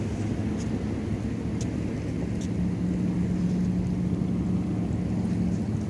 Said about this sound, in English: Oh, that's a noisy truck.